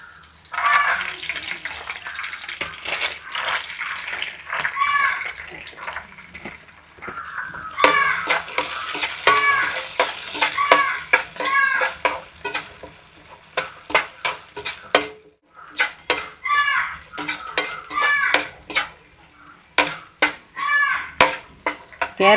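Green peas are tipped into a hot pan with green chillies and stirred, with a spoon scraping and clinking against the metal in busy bursts over a steady sizzle, loud and close.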